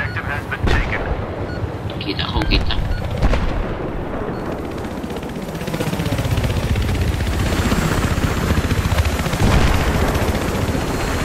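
Video game helicopter rotor drone mixed with heavy battlefield gunfire, artillery and explosions, loud and continuous throughout, with occasional voices from players over the din.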